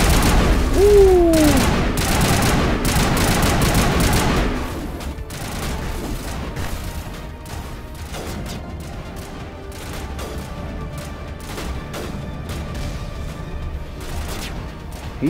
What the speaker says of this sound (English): He's shooting something over there.